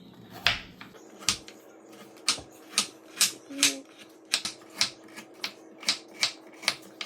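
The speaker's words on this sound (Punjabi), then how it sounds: "ਇਹ ਆਪਾਂ ਗਾਜਰ ਨੂੰ ਨਾ ਗੋਲ ਗੋਲ ਕੱਟ ਲੈਣਾ" A knife slices carrots into rounds on a cutting board for sambar, giving sharp, evenly spaced chops about every half second. They are close and clear, with no talking.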